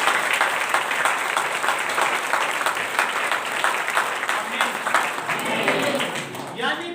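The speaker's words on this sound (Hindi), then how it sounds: "ताली बजाओ परमेश्वर की" Congregation clapping at a church meeting, steady dense applause filling the whole stretch at close range, with voices mixed in beneath it.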